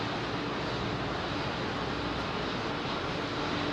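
A jet airliner departing from runway 27R at London Heathrow roars with a loud, continuous broadband engine noise close by, steady throughout with no voices.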